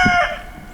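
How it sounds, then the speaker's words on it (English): A chicken near a Jeep Gladiator on 40-inch tires lets out a short, loud, high-pitched clucking call, close by and on its own. "I swear this chicken is just gonna do that the whole time I'm filming"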